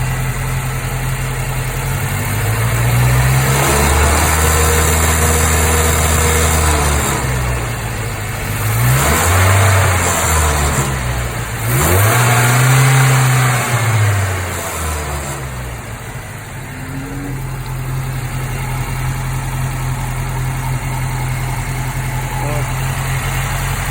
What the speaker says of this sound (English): I'll rev it and you can kind of hear it.